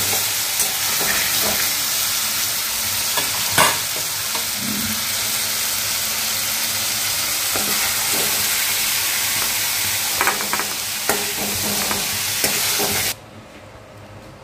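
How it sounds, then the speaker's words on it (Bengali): Chicken pieces fry in hot oil for a chicken masala curry, giving a steady, loud, close sizzle with a few sharper crackles. The sizzle cuts off abruptly near the end. "তেলটা গরম হয়ে গেছে, এবার আমি চিকেনগুলো ছাড়ছি তেলে"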